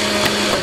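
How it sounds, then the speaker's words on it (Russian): A blender runs loudly in the Hello Neighbor VR video game, a steady dense whir that fills the short moment alone with no talk over it. "Блендерь! Ой-ой-ой, какой он громкий"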